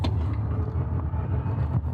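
An electric work truck's simulated engine growl: a low, steady vehicle rumble, continuous and fairly loud throughout with no speech.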